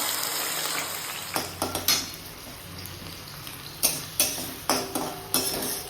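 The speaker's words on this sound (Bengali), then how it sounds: "এবার চিংড়িগুলোকে দিয়ে দেবো তেলটা গরম হয়ে গেছে" Shrimp go into hot oil in a pan and fry with a steady sizzle close up, broken by a series of sharp clinks and scrapes from stirring with a utensil against the pan.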